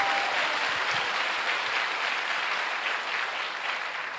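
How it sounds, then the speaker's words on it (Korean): Steady, dense applause from a church congregation during a revival service, a continuous wash of many hands clapping at even loudness throughout. "성령 하나님께 영광의 박수 올려드리겠습니다"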